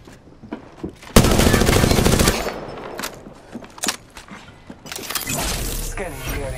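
Gunfire in a battle royale shooter game: a loud sustained automatic burst, then scattered single shots and another burst, with game voices heard around the shooting.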